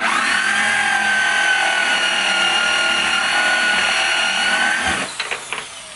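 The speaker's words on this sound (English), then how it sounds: "Drill a hole. Use something with torque, twisting power." A power drill boring a hole whines loudly and steadily, then stops abruptly near the end, leaving a few light clatters.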